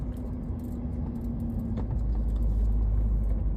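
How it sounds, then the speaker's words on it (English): Idling cars queued in lanes at a Marine Atlantic ferry terminal while waiting to board, giving a steady low engine rumble that swells slightly louder toward the end, with faint clinks over it. "there's many cars waiting to get on board"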